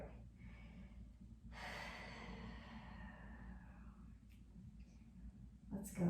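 Audible breaths during an oblique sling exercise, a couple of sharp inhales and exhales rising over a quiet room hum, close and moderately loud, with no talking.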